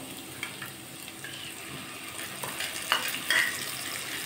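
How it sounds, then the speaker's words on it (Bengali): Quiet frying sizzle as spice paste goes into a pan of frying fish for a fish curry, with light stirring scrapes and faint utensil clicks at close range. "যে মশলাটা পেস্ট করে রেখেছিলাম সেটা এবার দিয়ে দেবো।"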